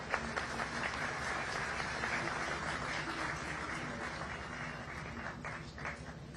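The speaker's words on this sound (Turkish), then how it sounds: "Bu önemli esere hayat veren yüksek mimar, heykeltıraş Sayın Pınar Öktem Doğan'ı konuşmasını yapmak üzere kürsüye davet ediyorum. Alkışlarınızla." Sustained applause from an audience fills a statue unveiling ceremony for a volleyball player, steady and dense clapping throughout with a faint murmur beneath.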